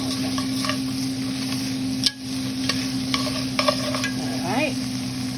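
Homemade tomato paste is stirred in a hot cooking pot for short ribs, a steady sizzle with several sharp scraping clicks from the spoon and a brief squeaky scrape near the end, no voices.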